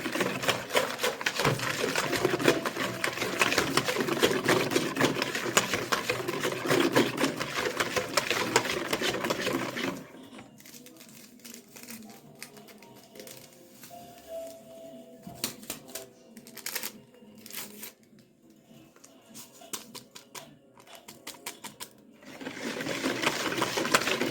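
An electric hand mixer beats sugar into cake batter made with two eggs and milk, whirring loud and steady alone for about ten seconds, then dropping to a quieter, intermittent churn before rising again at the end.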